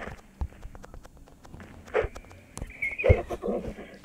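A horse whinnies over a ride through a setting styled after Ertugrul Gazi, with scattered hoof clip-clops and knocks close by and a longer, louder neigh near the end.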